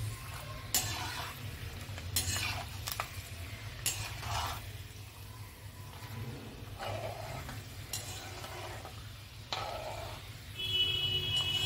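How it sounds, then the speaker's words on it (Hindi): Almonds roast in a pan while being made into besan laddoo. A soft, steady sizzle runs under repeated scraping strokes of a spoon against the pan, with light clinks and faint crackles. "हमारे बादाम ब्राउन होने शुरू हो गए हैं, उनमें से थोड़ी थोड़ी आवाज़ भी आ रही है।"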